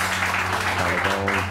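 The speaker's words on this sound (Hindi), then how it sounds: "डॉक्टर खुर्रम मुशीर के लिए बहुत सारी तालियां।" Studio audience applause greets a guest on a live morning television show, a dense steady wash of clapping close by with a low hum beneath and faint voices.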